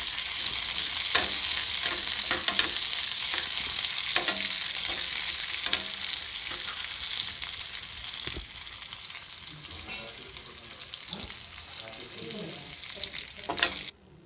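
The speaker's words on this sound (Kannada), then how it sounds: "ದ್ರಾಕ್ಷಿ ಮತ್ತು ಗೋಡಂಬಿನ ತುಪ್ಪದಲ್ಲಿ ಒಂದು ಸ್ವಲ್ಪ ಫ್ರೈ ಮಾಡ್ಕೊಳ್ತೀನಿ" Cashews and raisins fry in ghee for a South Indian sweet, a steady bright sizzle filling the clip with occasional stirring scrapes and clinks, close and loud, no voices.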